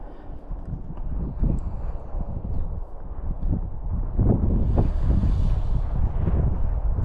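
Strong wind buffets a DJI Flip drone's microphone outdoors, producing loud, uneven low-pitched rumbling gusts that surge and thump throughout, with no voices.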